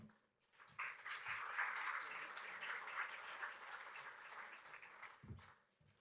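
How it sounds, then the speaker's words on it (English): Conference audience at a digital transformation summit breaks into warm applause welcoming a speaker, a steady wash of clapping that swells, holds for several seconds and fades out. "Please put your hands together and give a really warm welcome to Bill Bryan."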